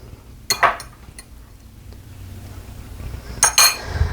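A fork clinks against a dish while a Thai dish topped with lime-pickled radishes is assembled, giving a few sharp, close metallic taps in two brief clusters with quiet handling noise between.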